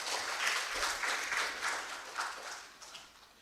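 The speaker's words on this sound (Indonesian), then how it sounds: "Tepuk tangan untuk beliau." Applause from an audience at a university energy talk on fuel subsidies, a steady diffuse patter of many hands at moderate distance, lasting the whole span and tapering slightly toward the end.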